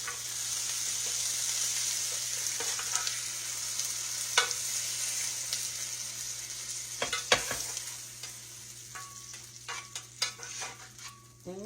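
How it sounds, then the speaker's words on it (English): Pineapple sauce stirred in a pan for a catfish dish, a soft steady scraping and faint sizzle under a constant hum, with a few sharper utensil clicks toward the end. "All you want to do is just kind of stir it around a little."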